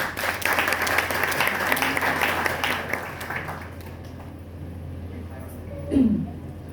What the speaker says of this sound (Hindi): मेरे गुरु चकेश्वर पांडे के माध्यम से मैं उनके लिए जोरदार ताली चाहती हूँ।